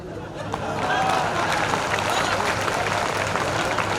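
An audience at a Hindi poetry recital breaks into applause. A dense, crackling wash of clapping swells within the first half-second and then holds strong and steady.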